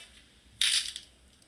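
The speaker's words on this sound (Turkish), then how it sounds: "kemik kırma, boyun kırma, öyle bel kırma, çıtırdatma gibi her şeyin sorumlusu pırasa." A single sharp, crisp snap of a leek stalk being broken as a neck-breaking sound effect, brief and close, followed by a few tiny crackles.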